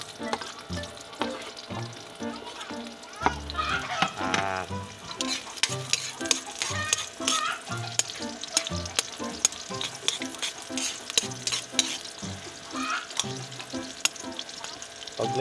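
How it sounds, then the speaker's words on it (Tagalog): Ginger and onion sizzle steadily in hot oil in a pan, with repeated scraping stir strokes close by, no talking. "Igigisa po natin para lumasa yung kanyang luya"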